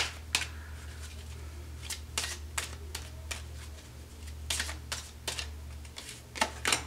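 Tarot cards being shuffled by hand, a series of quiet, crisp riffling bursts at irregular intervals over a low steady hum, with no talk.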